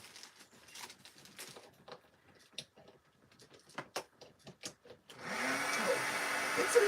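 A heat embossing tool switches on after a run of faint clicks and handling knocks, then blows a loud, steady, close whoosh with a rising hum for the last couple of seconds.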